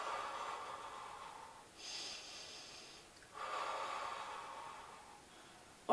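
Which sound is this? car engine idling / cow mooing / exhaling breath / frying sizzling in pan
exhaling breath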